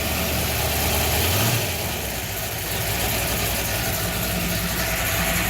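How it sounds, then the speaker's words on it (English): A 1978 Ford Courier engine idles lumpily with an uneven, low rumble. It is loud and close, runs steadily with no talking, and drops slightly in pitch partway through. "You can see idle's a little lumpy."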